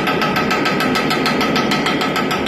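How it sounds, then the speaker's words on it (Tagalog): Engine knocking in an older car, a loud continuous running engine with rapid, evenly spaced metallic ticks and knocks pulsing throughout, close and prominent. "magpo-produce ito ng tinatawag na knocking sound"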